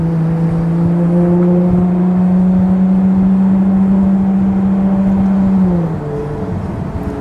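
Ferrari Monza SP2 and 812 Competizione engines drone loudly and steadily, a strong sustained tone that holds for several seconds before the pitch drops as the cars ease off, with no voices.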